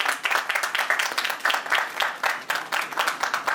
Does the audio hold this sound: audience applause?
yes